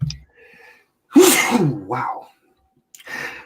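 A person sneezes once, loud and close, with a sharp burst followed by a trailing exhale, then a brief second vocal burst; a quiet voice murmurs before it.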